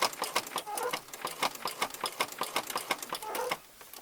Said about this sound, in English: I'm just going to use this as a guide and stitch all the way around